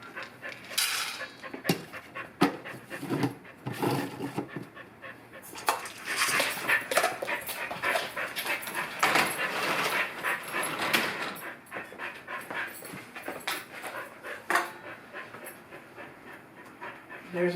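Two dogs panting rapidly at feeding time in a home, close and steady breathy huffs with an occasional whimper, mixed with light clinks of dishes and bowls throughout, no talk.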